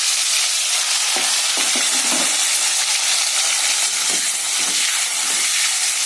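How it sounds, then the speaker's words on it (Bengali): Green plantain and potato chunks fry in hot oil seasoned with black cumin, giving a steady loud sizzle with scattered crackles and spatters throughout, close by and without speech. "একটুখানি ভাজা ভাজা করে নিয়ে সামান্য একটু"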